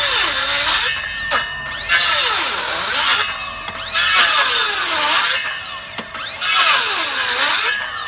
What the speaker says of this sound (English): I've set this depth of this blade to about 20mm on this Makita circular saw there